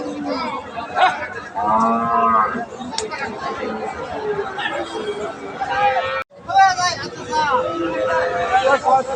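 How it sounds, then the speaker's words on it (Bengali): Cattle moo at the Badarganj cattle market in Rangpur, Bangladesh. Several long, loud moos rise over a steady babble of crowd chatter, and people talk nearby. "এই গাভিটা দেখছিলাম এটা কিন্তু ক্রস জাতের একটা গাভি"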